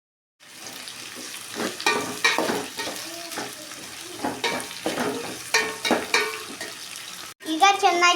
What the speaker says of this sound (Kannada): ಈಗ ಚೆನ್ನಾಗಿ ಫ್ರೈ ಆಗಬೇಕು